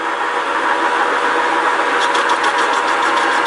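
Metal lathe turning a washer blank, a loud continuous motor drone with a steady high cutting hiss, picking up a faint rapid ticking toward the end.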